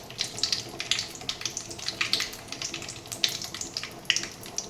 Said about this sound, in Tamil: காஞ்சதுக்கப்புறம் கடுகு போட போகிறோம்.